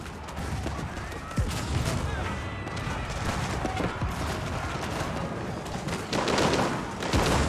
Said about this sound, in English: Janissaries do take a massive volley there.